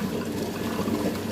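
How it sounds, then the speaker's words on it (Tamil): Water is poured into a millet, green gram and flattened rice batter being ground for paniyaram and dosa, a steady close trickle and splash with no talk. "தண்ணி கொஞ்சம் சேர்த்துக்கலாம்."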